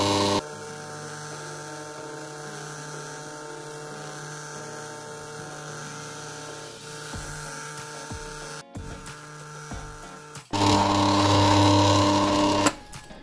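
An electric mixer beats quiche Lorraine pastry dough to a sandy texture, whirring in a steady, even hum that jumps to a louder, harsher pitch near the end.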